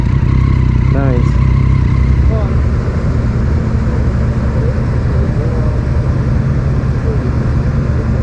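A Triumph Street Triple fitted with an Akrapovic titanium exhaust holds a loud, steady engine drone alongside other bikes on a misty road ride, with heavy wind rush throughout.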